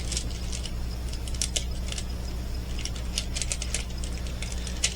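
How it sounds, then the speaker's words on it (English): Scissors snip along the edge of a sheet of canvas while it is being prepped, giving quick, crisp metallic clicks in small irregular bursts over a steady low background hum. "let those scissors run right along the edge of that washing"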